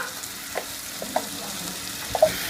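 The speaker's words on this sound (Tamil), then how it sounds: "இப்போ நம்மளுக்கு தக்காளி வதங்கிட்டே இருக்கட்டும்" Tomatoes sautéing in a pan for a mushroom roll, giving a soft, steady sizzle with a few faint clinks of a spoon against the pan. No one speaks.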